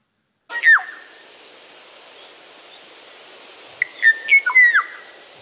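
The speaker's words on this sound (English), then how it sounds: "So this is the one bird singing for its mate that it would never see." A single bird sings clear whistled notes over soft hiss: one call near the start, then a longer run of sweeping, slurred phrases.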